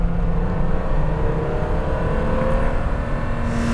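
A 50-year-old BMW E9 3.0 CSi classic coupé is being driven, its engine giving a loud, steady drone with a slight rise in pitch, heard close from inside and alone without talk.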